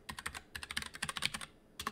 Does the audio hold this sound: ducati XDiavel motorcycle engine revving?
no